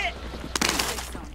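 A burst of gunfire in Warzone, the Call of Duty battle royale, cracks out mid-way and rings briefly amid faint game ambience, with a player talking around it.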